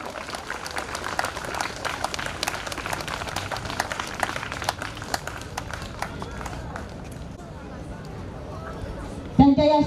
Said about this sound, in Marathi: सर्व विजेत्यांचे खूप खूप अभिनंदन करणारा जोरदार टाळ्या झाल्या पाहिजे.